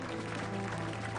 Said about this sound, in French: On nous applaudit le Seigneur.